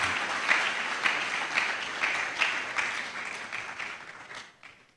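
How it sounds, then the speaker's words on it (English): An audience at an inaugural lecture claps for the chairperson, a dense, sustained round of applause with a few sharper individual claps standing out before it tapers off. "she deserves a round of applause"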